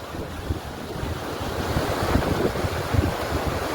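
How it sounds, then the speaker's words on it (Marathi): A steady, heavy roar of the rushing Bhima River fills the scene, mixed with buffeting wind noise against the microphone, growing slightly louder toward the end. "खतरनाक पाण्याचा प्रवाह जबरदस्त एकदम जबरदस्त"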